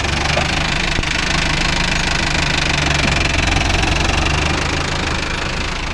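A Mahindra Arjun Novo 605 DI tractor's diesel engine runs loud and close, a steady rumbling drone with a faint knocking texture and no break.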